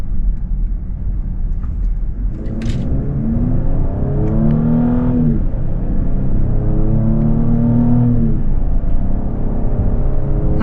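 A 2026 Lincoln Aviator Reserve luxury SUV driving while the transmission shifts gears, its engine note sweeping up and dropping back several times in a loud, close, steady cabin drone with no talking.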